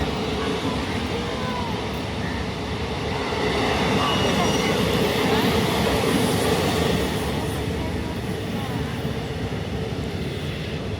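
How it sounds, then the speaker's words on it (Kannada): A train rolls steadily past nearby, its dense wheel rumble and rail clatter filling the whole stretch and swelling slightly in the middle, with no talk over it. "ನೋಡಿ ಟ್ರೈನ್ ಪಾಸ್ ಆಗ್ತಾ ಇದೆ."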